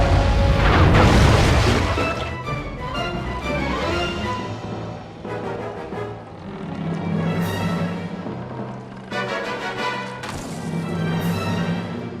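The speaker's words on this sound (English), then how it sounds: "Load the cannons and prepare to come about" Ship cannons fire in the video game Sly 3: Honor Among Thieves, loud booming blasts and crashes rolling over a bed of orchestral game music, with several heavy impacts spread across the scene.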